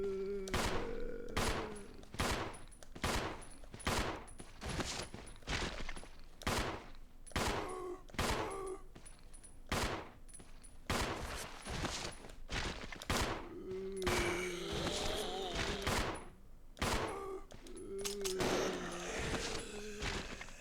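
Gunfire in the survival horror game Resident Evil 0, a long series of sharp shots spaced at an irregular pace, some quick doubles among them. A faint tone rises now and then in the background between the reports.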